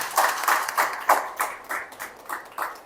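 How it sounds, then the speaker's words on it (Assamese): Audience claps in loose, separate bursts at a Hyundai Creta Electric launch event at a Guwahati showroom, each burst short and fairly near, with no voices over it. "এটা জোৰকে হাত চাপৰি বজালে ভাল লাগিব।"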